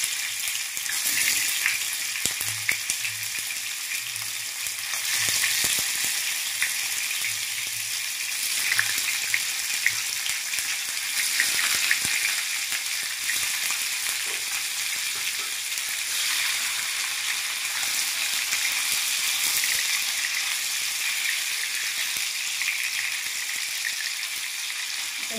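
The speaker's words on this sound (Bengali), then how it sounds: "চল আমি হালকা করে ভেজে নিয়ে নিই। তেল ছিটছে তো বহুত।" Malai paneer frying in hot splattering oil, a steady broadband sizzle with crackling pops running throughout without talk.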